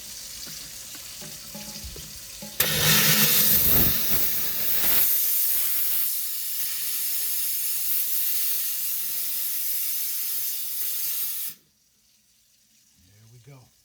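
A jewelry steamer blasts hissing steam over a piece of gold to clean it, a loud broadband rush that starts abruptly and holds steady for about nine seconds before cutting off, with quieter rinsing water running beforehand.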